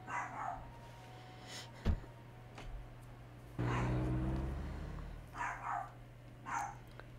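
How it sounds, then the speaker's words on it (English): A pet dog barks a few times in a room, some barks sharp and close and others softer and farther off, with quiet gaps between them. "Hope you guys enjoy hearing my dog bark."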